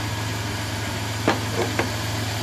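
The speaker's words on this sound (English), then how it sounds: "And now I got the van started." A van engine idles after being jump started, a steady low, even hum with a couple of faint clicks partway through.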